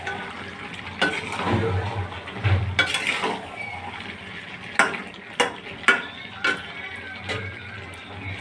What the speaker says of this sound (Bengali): এখন নাড়াচাড়া করবো আলু দিয়ে।